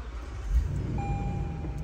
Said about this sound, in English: I'm going to put my foot on the brake and start the vehicle